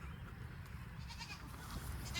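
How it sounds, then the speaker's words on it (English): Goats in a farm herd bleat softly amid steady outdoor background noise, with no distinct close calls standing out over about two seconds. "We are out here with our goat herd."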